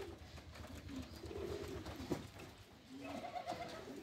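Several pigeons coo in low, rolling phrases around a rainy loft, the calls overlapping and fairly close, with a soft steady wash of rain behind them.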